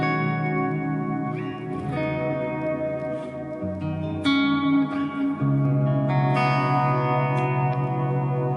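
Clean electric guitar chords through a Line 6 dynamic hall reverb ring out with a large, spacious sound, each strum blooming and trailing off into a long, lush tail.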